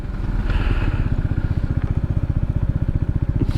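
An Italjet Dragster scooter rides along with a steady, fast-pulsing engine putter, loud and close with wind rush and no talk.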